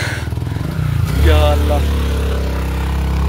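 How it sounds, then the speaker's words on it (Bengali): A motorcycle engine labours up a steep, rough rural road near Srimangal, its note pulsing low and then swelling as it strains under load, close and loud, while a rider briefly exclaims over it. "মোটরসাইকেল উঠতে পারতেছে না এদিক দিয়ে"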